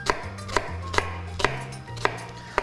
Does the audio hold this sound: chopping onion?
yes